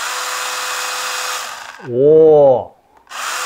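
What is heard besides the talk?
Makita handheld chainsaw running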